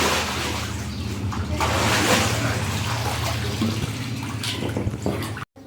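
Cold swimming-pool water splashes and sloshes close by, a continuous busy churn of watery noise with small drips, ending in a brief cut to silence.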